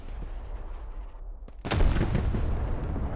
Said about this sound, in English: Looks like mortars finally coming in on construction site